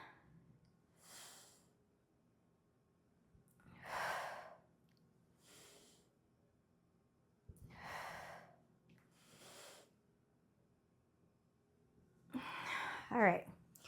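Heavy breathing during a lower-body dumbbell and jump-rope strength workout: several slow, loud exhales and sighs spaced a few seconds apart, heard close up, with a short clanking scrape at the end.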